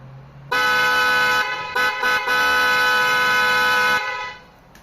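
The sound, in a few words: Lexus car horn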